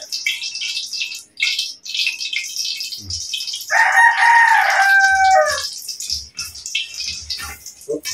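A rooster crows once, loud and close, a drawn-out harmonic call over a busy background of clucking and other fowl noise.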